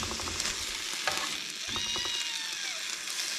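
Fries cook in a frying pan with a continuous close sizzle and bubbling crackle, spattering pops scattered through it and a faint squeak partway through.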